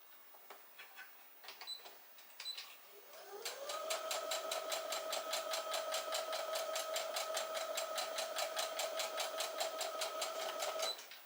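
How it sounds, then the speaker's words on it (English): A sewing machine stitches easing stitches on a 1990s-style dress made from a McCall's pattern, starting with a few handling clicks and short bursts, then running steadily with rapid, even needle clatter and a whirring motor, close and moderately loud. "we're going to put in those easing stitches"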